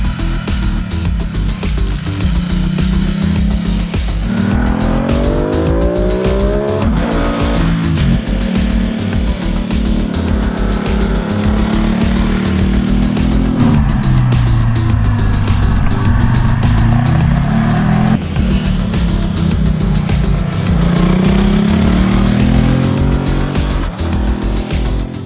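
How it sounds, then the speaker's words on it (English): A Ducati Multistrada 950 motorcycle ridden through twisting roads, its engine loud and close throughout, revs rising and falling repeatedly through the corners with steady wind rush and no talk. "First ride on the bike, and it's a hell of a lot of fun. It's so nimble and so agile through these twists and turns."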